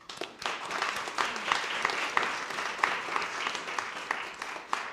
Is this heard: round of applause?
yes